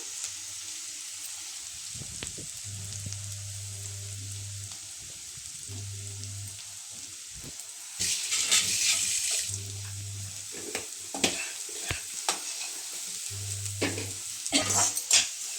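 Ingredients for sabudana khichdi fry in a pan with a steady low sizzle, broken by a bright rush of frying and sharp stirring clinks partway through, while a low electrical hum pulses on and off.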